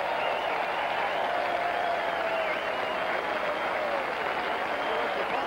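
The racetrack crowd at the Kentucky Derby cheers for Secretariat in a dense, continuous roar of many voices and applause that stays loud and steady throughout.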